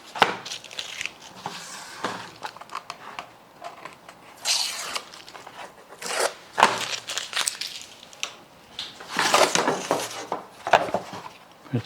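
A curly redwood guitar top is trued with a sanding block in uneven bursts of dry scraping and rasping, close and moderately loud, with short pauses between strokes.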